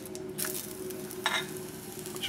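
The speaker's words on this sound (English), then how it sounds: "touch the panko breadcrumbs and then saute it" Potato and spinach cakes coated in panko breadcrumbs sauté in a hot pan with a steady, close sizzle, broken by a couple of brief scraping or stirring touches.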